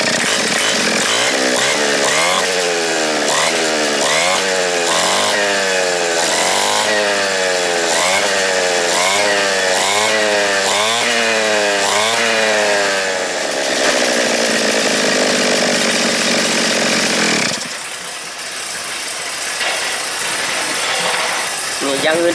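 A repaired 411 two-stroke brush cutter engine revs up and down repeatedly in rhythmic throttle bursts, then holds a high whine and drops to a rough idle near the end, loud and close, with a voice briefly under it.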